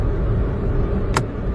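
Car interior while driving, with a steady low engine and road rumble close and continuous, and one brief sharp noise near the middle, no talk.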